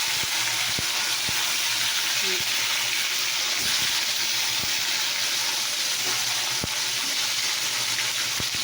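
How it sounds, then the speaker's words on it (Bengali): Fish fries in hot oil with a loud, constant, close-up sizzle and scattered sharp pops throughout, and no clear talking over it. "মাছ দিয়েছি। তো দেখো মাছ দেওয়া হলো।"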